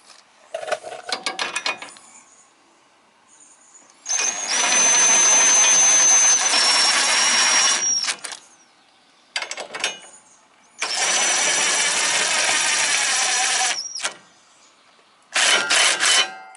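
Engine of a 1999 Wizard lawn tractor during mower clutch repair, running in three long loud bursts separated by quiet gaps, with shorter mechanical rattles and clicks between.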